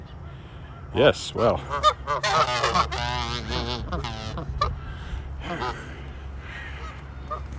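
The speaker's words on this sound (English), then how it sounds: "Geese having a conversation." Geese by Wascana Lake in Regina honk in a series of close, overlapping calls during a spring walk, while a person briefly speaks.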